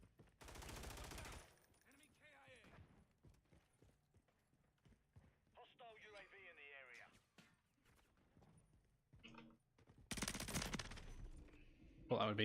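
Video game gunfire comes in two harsh, dense bursts, one at the start and a louder one near the end, with someone talking in between over quieter game sounds.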